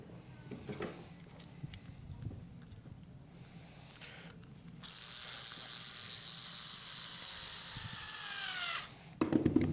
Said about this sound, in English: put our screws back in